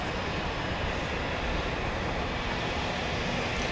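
A Southwest airliner arriving at Dallas Love Field, heard as a steady, fairly loud broadband engine roar that holds constant with no pause, with no talk over it.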